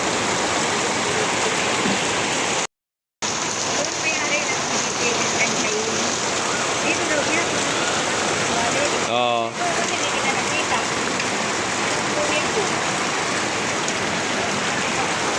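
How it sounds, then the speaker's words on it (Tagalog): Heavy rain pours on a vegetable garden in a steady, loud roar throughout, broken by a split-second gap, with a voice briefly audible underneath. "At kasalukuyang malakas ang ulan"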